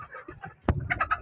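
Tiger breed chickens and roosters make a few soft, brief clucks close by, with a sharp knock partway through and quiet scattered calls after it.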